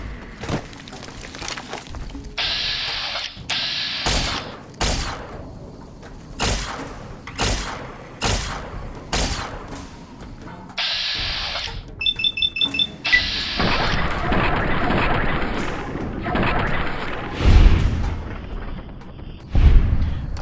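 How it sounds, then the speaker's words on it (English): Mines detonate in Fallout: New Vegas gameplay, a series of dull booming thuds and blasts repeating irregularly amid game effects, with a short beeping alarm-like tone and heavier rumbling explosions later on. "it's nice when they're setting off their own mines."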